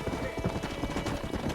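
Rhythmic clip-clop of horse hooves trotting at a steady pace in Red Dead Redemption, close and continuous, with a voice briefly present over it.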